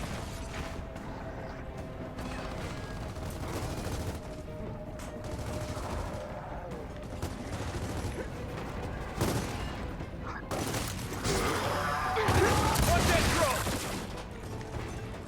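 Gunfire in the video game Gears of War 4: repeated bursts of shots and booming impacts over a constant din of combat, with a louder stretch of firing near the end.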